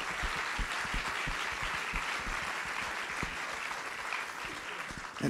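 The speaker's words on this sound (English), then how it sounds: "Let's get a big round of applause" Dense, steady applause from an audience at a live pitch event, with many hands clapping together for the full stretch at an even, sustained level.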